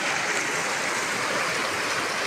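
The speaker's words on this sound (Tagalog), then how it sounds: "Mayroong daluyan ng tubig." Water from a bamboo channel and tap runs steadily near a waterfall in a natural setting, a continuous close rushing flow with no pauses.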